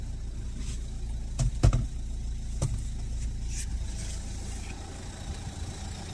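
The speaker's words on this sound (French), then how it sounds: "Le moteur tourne parfaitement." A Renault Mégane 3 car engine idles steadily with a low, constant rumble, broken by a few brief knocks and clicks.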